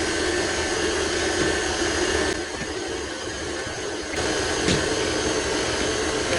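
A KitchenAid stand mixer runs at about speed 6 while making homemade butter, giving a steady, loud whirring motor drone that dips slightly in the middle and then returns to full strength, with no talking.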